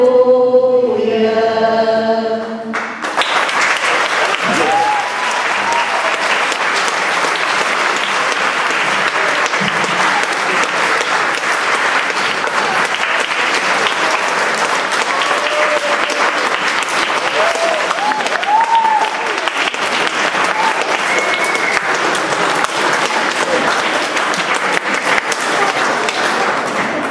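An audience at a senior academy's Passion of Christ performance breaks into loud, sustained applause after singing ends, the dense clapping continuing steadily throughout.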